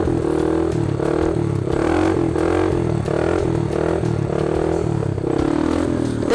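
Quad bike held in a wheelie, its engine droning loudly and steadily with rhythmic rises in revs, accompanied by clattering and scraping, close and continuous with no talk.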